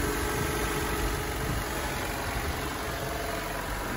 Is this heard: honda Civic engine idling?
yes